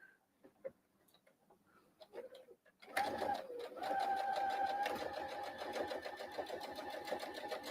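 After a few seconds of near silence with faint tapping, a sewing machine starts up and stitches quilt strips along a marked line, humming steadily with a rapid, even ticking close by.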